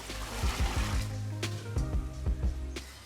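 Boiling water poured onto washed green lentils in a large batch for forty people, a steady close pour with splashing and a few sharp knocks from the container through the pour.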